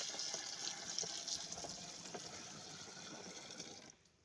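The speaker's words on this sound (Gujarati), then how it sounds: "એક ડોલ પાણી નાખ્યું છે" Water pouring steadily from a bucket into a pesticide sprayer tank, a bright splashing gush that tapers off and stops near the end.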